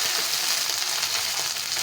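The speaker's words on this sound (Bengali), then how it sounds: "চালটা আলুর সঙ্গে ভেজে নিচ্ছি" A handful of soaked rice fries together with potatoes in a pan, giving a bright, even sizzle that stays close and steady throughout with no voices.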